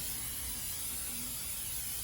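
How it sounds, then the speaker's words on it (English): Pam grill cooking spray hisses from the can onto a Blackstone griddle in one continuous, quiet, breathy spray lasting about two seconds. "I'm gonna spray a little Pam grill on there, grill spray"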